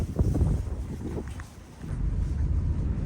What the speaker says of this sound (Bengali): খুব বাতাস আজকে